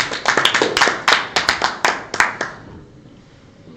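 Players at a mafia game table applauding together: a burst of sharp, irregular hand claps, close and fairly loud, thinning out and fading to quiet room tone after about two and a half seconds.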